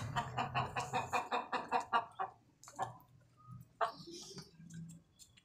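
Aseel hens cluck in a quick rhythmic run of short calls, then scattered softer clucks and a brief louder squawk, close by in an enclosed shed.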